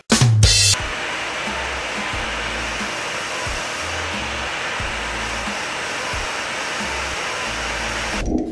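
A vacuum runs with a loud, steady whine as it sucks metal shavings out of a bolt hole on a B20 VTEC engine, starting with a brief burst of rattling and cutting off at the end.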